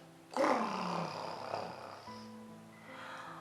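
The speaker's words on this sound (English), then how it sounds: "Mr. Wolf is hungry and his tummy is rumbling very loudly" A loud, growling rumble stands in for a hungry wolf's tummy in a storybook sound effect, a roar-like swell that bursts in and then fades into lower, softer grumbles.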